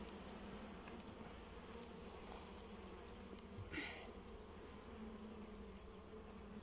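Honey bees hum steadily around an open hive during vertical expansion with a honey super, a dense close buzz continuing throughout without speech.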